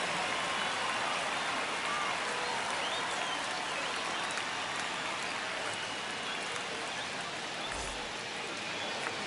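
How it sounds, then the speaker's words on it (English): A stadium crowd in a baseball video game cheers and claps in a dense, continuous wash of noise that holds steady at moderate loudness, with no voices standing out. "The crowd is amped up, ready to get this season underway, as are we."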